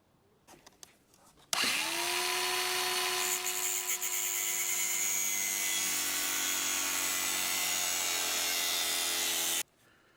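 An angle grinder cuts through a steel frame for a 4WD canopy drawer, whining loudly and continuously for about eight seconds before it stops.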